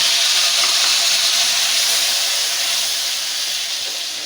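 Tomato paste sizzling loudly into browned ginger and garlic in a kadhai, a steady dense hiss that holds throughout and eases slightly toward the end, with no talking.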